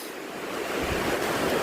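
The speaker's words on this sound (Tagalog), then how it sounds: "Ang ating dagat. Maingay na naman." Sea waves rush in a continuous, broad roar of surf that swells slightly louder over a brief moment, with no voices.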